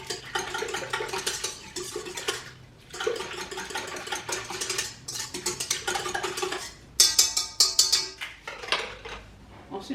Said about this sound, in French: Je rajoute l'œuf que je vais mélanger.